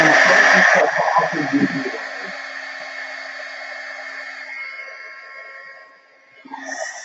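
A heat tool blowing a steady whooshing hum while drying a floral mixed media craft container, loud and continuous throughout, with someone speaking briefly over it at the start and the noise rising again at the end.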